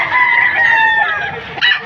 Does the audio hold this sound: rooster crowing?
yes